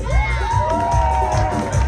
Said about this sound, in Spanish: fuerte los aplausos para la parejita número 3